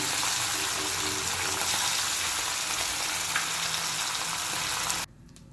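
Small sea fish frying in a wok, a loud, steady crackling sizzle throughout that cuts off abruptly near the end.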